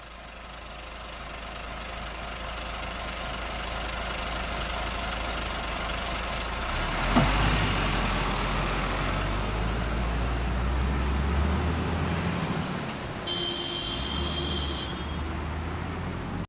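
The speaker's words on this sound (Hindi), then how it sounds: "चलो अब पिंक कलर के ट्रैक्टर को लाते हैं।" A pink toy tractor with a trolley, heard as a steady engine-like rumble that runs throughout, close and fairly loud, with a brief hiss and thump midway and no voices.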